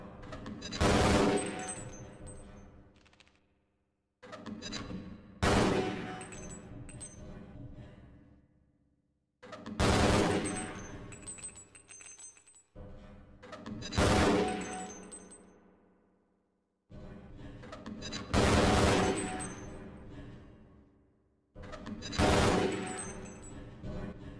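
Bursts of rapid automatic gunfire at a target range in Half-Life Blue Shift, six loud volleys of a few seconds each, split by short pauses, with metallic clinks ringing over the shots.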